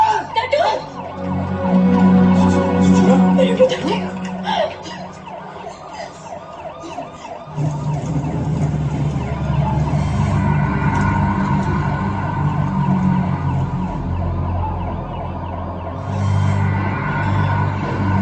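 A loud wailing ambulance siren cycles continuously up close, joined by rumbling traffic and engine noise after a few seconds.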